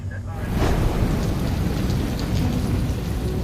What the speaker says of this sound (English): Rain has been hitting Guam on and off all day.